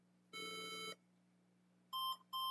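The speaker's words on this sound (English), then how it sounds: "it's giving me three long beeps and two short. So that's probably memory problem." HP EliteBook 840 laptop giving a power-on self-test beep code, shrill electronic tones sounding close and clear: one long beep, a pause, then two short beeps in quick succession.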